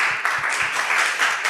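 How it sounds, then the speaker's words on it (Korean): Church audience applause, steady dense clapping from many hands, loud and sustained with no break, a few soft thumps underneath. "우리가 크게 한번 격려하며 감사하며 한 번 더 박수해 주시면 좋겠습니다"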